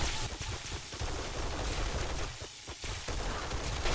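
Gunfire in the zombie survival game 7 Days to Die during a horde night at a defended base, a dense barrage of rapid overlapping shots and booms sustained throughout, loud and close with brief dips.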